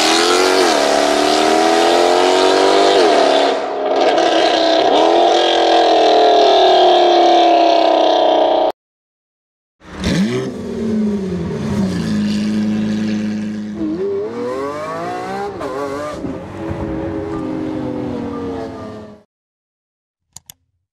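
Mercedes C63 AMG with its exhaust valves open, revving loud and close in long sustained bursts that rise and fall, broken by a short silence before a second harsh revving run.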